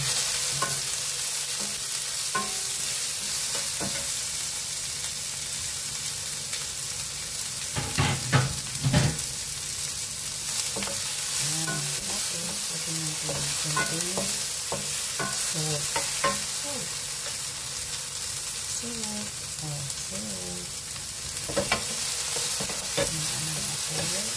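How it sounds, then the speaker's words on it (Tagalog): Okra dipped in beaten egg fries in a pan as a lady finger omelette, crackling and sizzling continuously up close. Intermittent scrapes and taps of a spatula stirring against the pan cut through, and nobody speaks. "Ayan, prito natin."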